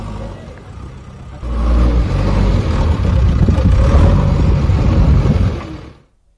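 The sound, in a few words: bulldozer demolishing illegal colonies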